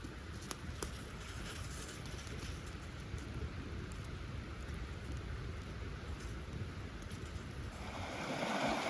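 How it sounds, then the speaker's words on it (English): Water in a mountain brook rushes steadily through its deepest part at a campsite. A close, continuous broadband wash, like heavy surf, holds level throughout and swells louder near the end. "This is the deepest part of the brook around me."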